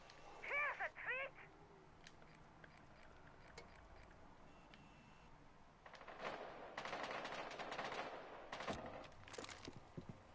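Gunfire in the Rainbow Six Siege video game: scattered distant shots early, then bursts of rapid automatic fire from about six seconds on, fairly faint, with brief electronic beeps near the start.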